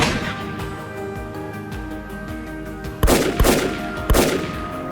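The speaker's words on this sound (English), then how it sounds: "I adjust my scope, steady my hands, and pull the trigger." Rifle shots fired at wild boars during a hunt, three loud sharp cracks in quick succession near the end, preceded by steady background rumble and softer clicks.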